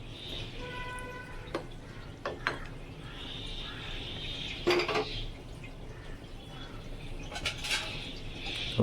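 A metal lid is set on a pot of simmering fish curry with yam, taro and potato, giving several light clanks and scrapes over a soft background of bubbling.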